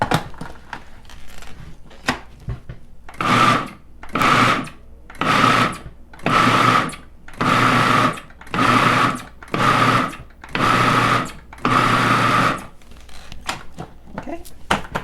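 A food processor pulses a falafel mixture in about nine even, loud bursts of whirring, each roughly a second long with short pauses between, starting after a few seconds of quiet.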